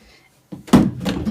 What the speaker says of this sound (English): Ooh, what did I knock? I knocked my vinyl down.